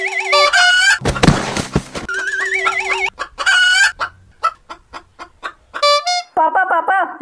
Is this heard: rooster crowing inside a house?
yes